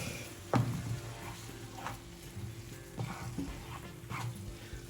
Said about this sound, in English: just stir that in so that it goes throughout the dish